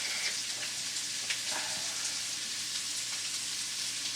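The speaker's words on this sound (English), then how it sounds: "At the same time, I'm going to add some garlic." Garlic sizzles steadily in a hot pan for jambalaya, a soft, even hiss with faint crackles that stays fairly quiet throughout.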